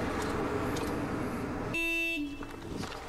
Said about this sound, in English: Can I honk your horn?